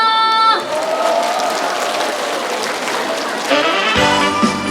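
A crowd at an outdoor Korean jujube festival concert in Boeun bursts into sustained applause and cheering. The noisy wash of clapping is framed by fragments of music and voice at the start and end.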